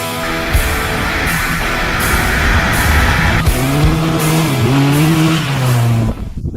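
Benelli TRK 502X adventure motorcycle on a ride, engine droning steadily with a rising and falling pitch as it accelerates and shifts, loud and close, before cutting off near the end.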